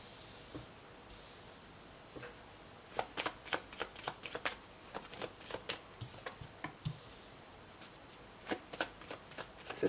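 Tarot de Marseille cards are shuffled by hand in quiet, producing a series of soft, crisp riffling and tapping bursts that come in uneven clusters, faint and close.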